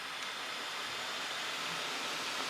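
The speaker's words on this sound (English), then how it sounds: "now you can hear the heater" A flameless ration heater from a 2016 Danish field ration (Menu 20) hisses and steams in a constant, fairly quiet, broadband rush that holds evenly throughout, with no voices over it.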